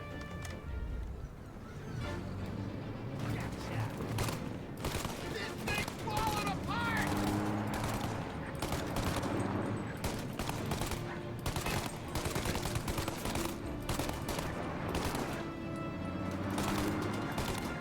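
Rapid, dense gunfire from a shootout in the video game Mafia: Definitive Edition, with bursts and overlapping shots rattling continuously for the whole stretch at a steady, loud level.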